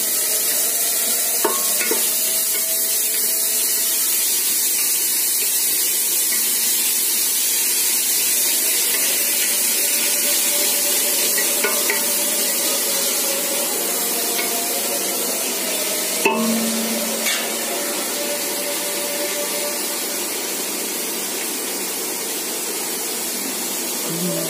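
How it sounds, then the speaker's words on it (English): Onions frying in a pan for egg biryani in a home kitchen, a steady loud sizzle throughout with occasional faint stirring clinks, no voices. "And we are frying the onions for 5 minutes."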